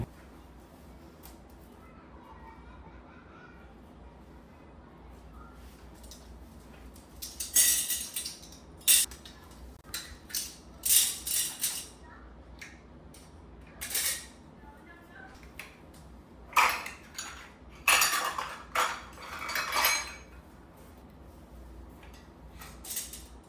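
Metal canning rings and other kitchen odds and ends are handled, giving bursts of sharp metallic clinks and clatters in irregular clusters over a quiet room background.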